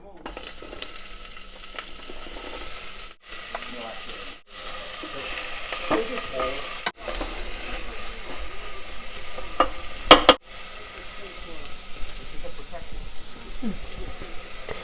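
Shallots frying in a pot inside an Instant Pot for a potato and cauliflower curry: a steady, close hiss of sizzling oil with light stirring clatter, broken by a few brief drops in level.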